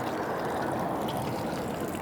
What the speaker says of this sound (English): pour 10 litres of water onto this.